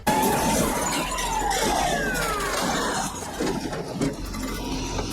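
A car pulling out of a parking lot and speeding off, its engine loud and close at first with a rising whine, then receding under a broad wash of road noise.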